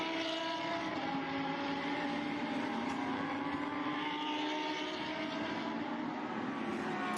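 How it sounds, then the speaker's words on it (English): A Lamborghini race car runs wide over the kerb during a race, its engine a loud, steady roar with layered tones that holds for the whole stretch without a break. "Runs a little bit wide over the curb there, but all good for him"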